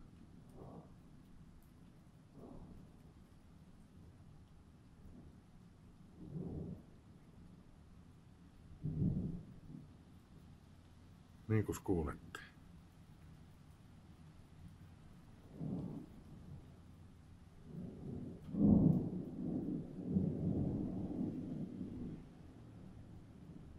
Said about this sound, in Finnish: täällä vaan niinku tämmöistä pientä jyrinää on koko ajan. Korvin kuultavissa.